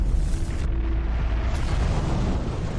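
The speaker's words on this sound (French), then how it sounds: "Bientôt, une puissante explosion éclate sur la sphère." A powerful explosion erupts on a sphere in a science-fiction film, a loud, dense blast of deep rumbling roar that fills the moment continuously without any speech.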